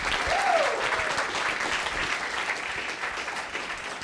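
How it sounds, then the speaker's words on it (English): A crowd at a judged presentation event applauds steadily for a few seconds, a dense wash of clapping with a brief whoop near the start. "let's give her a big round of applause"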